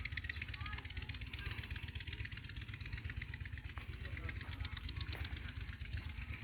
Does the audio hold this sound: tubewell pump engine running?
yes